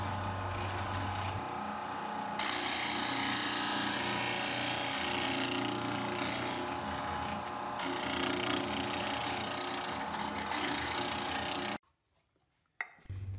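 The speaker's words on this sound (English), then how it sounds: "Just a couple of touch-ups back and forth on the disc sander" A disc sander grinds against the oak bottom panel of a treasure chest, a loud continuous whirring rasp that shifts in tone as the wood is pushed back and forth, then briefly cuts out near the end.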